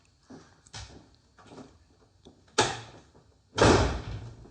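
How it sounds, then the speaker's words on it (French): A door is slammed shut indoors: a series of sharp, close thuds and bangs, the last two by far the loudest and most forceful. "claque la porte"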